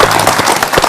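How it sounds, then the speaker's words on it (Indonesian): A burst of crowd applause greets a regional secretary at an Indonesian government gathering, brief and fairly loud. "kita beri tepuk tangan Pak Sekda"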